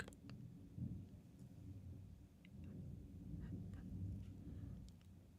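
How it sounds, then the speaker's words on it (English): Low, rolling thunder rumbles faintly and continuously in the distance, swelling a little midway, with soft scattered crackles and ticks on top. "Thundering."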